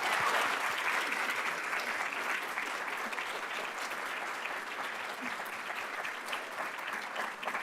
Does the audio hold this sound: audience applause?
yes